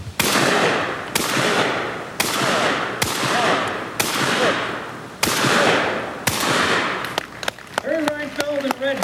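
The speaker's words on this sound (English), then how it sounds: "How about Harry Reinfelder and Red Ball dazzled the crowds with shotgun tricks" Shotgun shots boom out at a speed shooting exhibition at an outdoor fair, about eight loud blasts in a quick steady series, followed by brief cheering voices.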